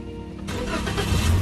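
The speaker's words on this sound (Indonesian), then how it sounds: "baru mesin bisa kita hidupkan dengan satu sentuhan ke depan" A car engine fires up at the touch of a push-button start during a driving lesson. A quiet cabin gives way to a sudden crank and catch that settles into a steady, close idle.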